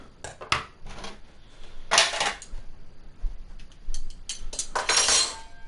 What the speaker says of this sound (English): it sounded like some clicking and clacking of like silverware in the kitchen